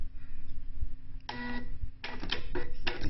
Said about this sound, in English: And now the printer will relearn its label.